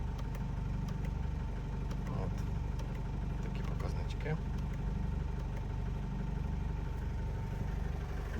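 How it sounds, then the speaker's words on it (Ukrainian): A 2014 Opel Vivaro passenger van with a 2.0 115 hp diesel idles steadily, a constant low, even engine hum with a faint clatter running unbroken throughout, heard close up and alone. "Я думаю, тут одразу чути, як автомобіль працює"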